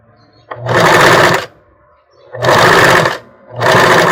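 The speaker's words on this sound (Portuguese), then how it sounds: "Aqui a gente vai costurando sempre na beiradinha." A sewing machine runs in three loud bursts, stitching along the edge of a bra cup, each run a steady rapid mechanical whirr separated by short quiet pauses.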